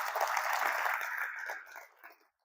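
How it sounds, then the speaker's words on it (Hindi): Audience applause in a hotel training hall, a burst of clapping that starts strong, then thins out and fades away over about two seconds. "एक बार जोरदार तालियां उनके लिए होनी चाहिए।"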